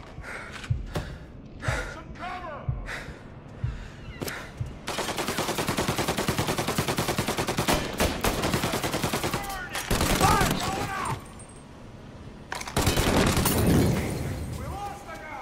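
Rapid bursts of gunfire in the Mafia video game, sustained stretches of loud automatic fire broken by single shots and short pauses, with excited talk and shouting over it.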